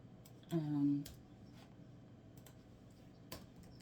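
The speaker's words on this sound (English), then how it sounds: "Sorry, I'm like typing in something" Quiet keyboard typing with sparse, scattered key clicks, joined by a brief low murmur near the start.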